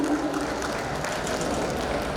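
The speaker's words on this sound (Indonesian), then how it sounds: "Bapak Ibu boleh berikan tepuk tangan yang meriah untuk acara di siang hari ini." Audience applause fills a hall at the Dekranasda fashion competition 2021 in Malang, a steady, dense wash of many hands clapping without pause from start to finish.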